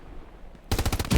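Machine gun suppressing fire in the Hell Let Loose war game: after a quiet lead-in, a loud close burst of rapid automatic shots with an even, fast rhythm, alone with no talk.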